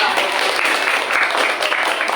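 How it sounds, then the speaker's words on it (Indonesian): A classroom group claps in brief, steady applause, loud and close, for a couple of seconds. "Oke, beri tepuk tangan."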